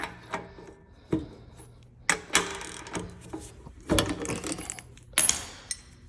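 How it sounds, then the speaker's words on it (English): Ratchet wrench turning on a 1770 planter row unit, giving scattered metallic clicks and clunks in short irregular bursts, close and fairly quiet with no speech. "So, you take your ratchet."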